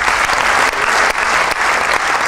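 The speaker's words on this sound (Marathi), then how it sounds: "मंगेश जी पाडगावकर टाळ्या वाजवून आपण अभिनंदन करूया" Sustained, dense applause fills the hall at an award ceremony as an audience claps for a lifetime literary honour, loud and steady with only slight dips in intensity.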